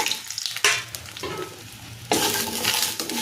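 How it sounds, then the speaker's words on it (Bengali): Dried pumpkin lentil dumplings (kumro bori) sizzle steadily in hot oil, loud and close, with a bright burst of frying as more are added partway through and occasional stirring scrapes, no talking. "তেলটা গরম হয়ে গেছে, এখন এই যে কুমড়ো বড়িগুলো দিয়ে দিলাম।"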